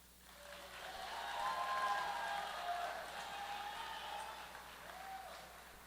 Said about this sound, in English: Let's give a big round of applause to our athletic training staff.